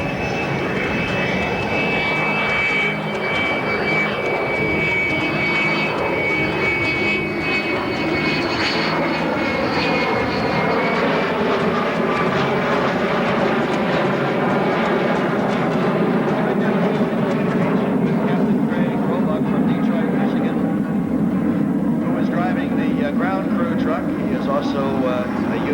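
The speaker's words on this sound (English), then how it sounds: "Toughest airplane in the arsenal to land, because it's the tail dragger, is the U-2 Dragon Lady." A Lockheed U-2 Dragon Lady tail-dragger at the 1994 Quonset Point air show gives a loud, continuous engine roar that swells and shifts as it passes, with someone talking over it.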